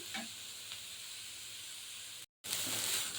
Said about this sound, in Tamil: உருளைக்கிழங்கும் போட்டிருக்கோம் நல்லா வதங்கிட்டுருக்கு